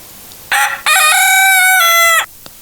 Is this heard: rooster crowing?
yes